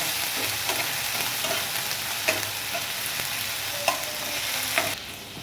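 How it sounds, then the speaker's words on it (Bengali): Onion, tomato and green chili are stirred in a hot frying pan for masala Maggi, giving a steady sizzle broken by a few sharp spoon scrapes against the pan, close and moderately loud. "পেঁয়াজ, টমেটো, কাঁচা লঙ্কা দিয়ে ভালো করে নেড়ে চেড়ে নেব"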